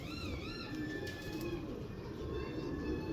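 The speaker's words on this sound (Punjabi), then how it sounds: "ਬਹੁਤ ਚੰਗਾ ਕਬੂਤਰ ਆ ਵੀ।" A large golden pigeon coos softly in a loft, a low soft call over steady background hum and faint distant chirps, with no talking.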